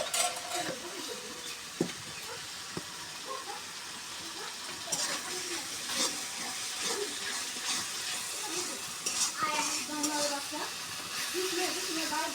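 Vegetables such as okra being stir-fried in a pan for a Bengali mixed vegetable dish, giving a steady sizzle with scraping and stirring clatter throughout, moderately close.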